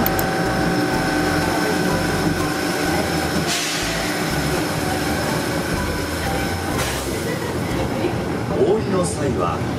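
Inside a Japanese train carriage on the Tokyo Disney line: a loud, continuous rumble of wheels and running gear with faint squeals. A recorded announcement plays over the noise.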